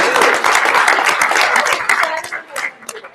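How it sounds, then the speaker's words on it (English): A burst of clapping from a small group, loud at first and then tapering off into scattered claps. "Let's give a round of applause."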